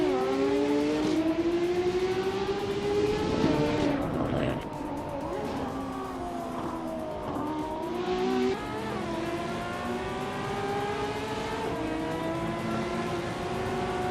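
Porsche 917K and Ferrari 512 race cars screaming around a circuit in a racing game, with steady high engine whine, pitch rising and dropping through gear changes and cars passing close by.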